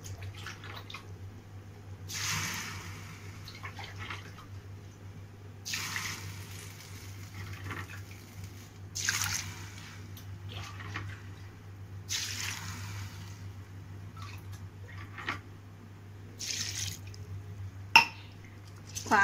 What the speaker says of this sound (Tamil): இந்த டம்ளரு இதில் வந்து நான் ஆறு அழாக்கு ஊற்றுறேன்